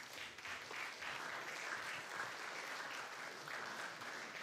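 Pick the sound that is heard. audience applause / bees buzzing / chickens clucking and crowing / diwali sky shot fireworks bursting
audience applause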